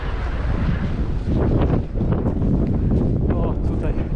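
Strong fresh wind near the Fagradalsfjall volcanic eruption site in Iceland, a continuous loud roaring buffet on the microphone that swells midway and persists throughout.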